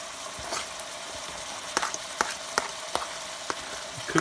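Chopped onions and peppers fry in a pan with a steady close sizzle, punctuated by sharp scraping clicks from stirring at irregular intervals, with no talking.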